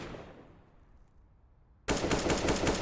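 Loud burst of rapid gunfire from Counter-Strike wall-bang tap shots bursts in abruptly after a quiet, fading stretch and keeps up dense, sharp reports to the end.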